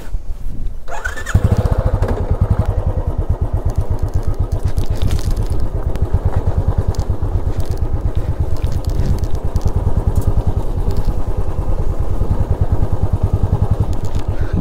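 A motorcycle engine starts after a short moment of quiet, then idles and runs with a loud, steady, close-up rhythmic chug on a ride through jungle country, with no voices.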